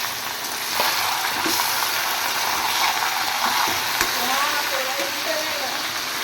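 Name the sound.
taro leaves (kochu shak) frying and stirred in a wok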